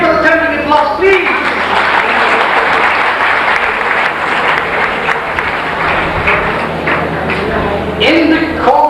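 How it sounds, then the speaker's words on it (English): Loud, sustained applause from an audience at an awards ceremony for a roll of honour launch, a thick continuous roar of clapping with voices briefly audible at the start and end. "Why don't you give us a thundering applause"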